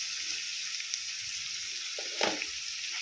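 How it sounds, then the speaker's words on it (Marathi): Onions sauté in a pan for zunka, giving a faint, soft sizzle with a brief scrape of stirring near the end. No one speaks. "3 ते 4 मिनटं आपण कांदा परतून घेऊया व्यवस्थित"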